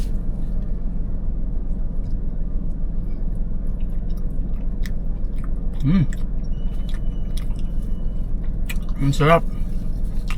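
Someone bites into and chews a soft bibingkoy rice cake at a Cavite City market, with quiet, moist chewing sounds beneath people talking and a steady background hum.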